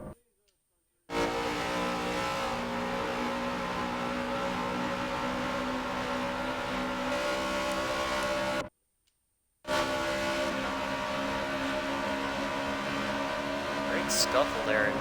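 NASCAR Truck Series trucks racing at Homestead Speedway roar past in a loud, steady engine drone that cuts out briefly twice, with commentators talking over the track noise.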